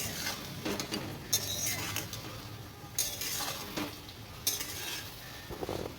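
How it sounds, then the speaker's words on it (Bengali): Eggplant with salt and spices being stirred in a pan: a continuous soft sizzle broken by repeated scraping strokes and occasional sharper clinks of the utensil against the pan. "নাড়াচাড়া করে নেব যাতে বেগুনের মধ্যে নুন মশলা ঢোকে"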